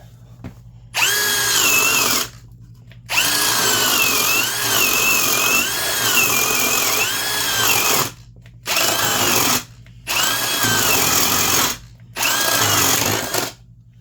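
A drill running at 2,000 RPM bores through a board with a 1-inch Craftsman dimple spade bit. It comes as several loud, close bursts of whining motor with the pitch shifting under load, separated by short silent pauses.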